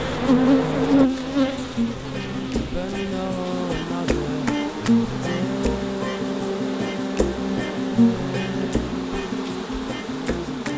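Honeybees buzz densely and continuously at urban beehives in the suburbs, a close, loud droning hum with individual bees passing near.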